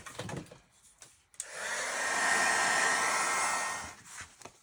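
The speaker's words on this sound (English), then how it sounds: "let me just heat set this" A heat tool blows a steady, loud whooshing roar for about two and a half seconds while heat setting ink on a handmade stamped card, with quiet handling noises before and after.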